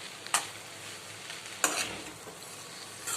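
Spoon stirring egg into wheat flour noodles in a pan, two or three soft scraping strokes against a faint sizzle, close and quiet with no talking.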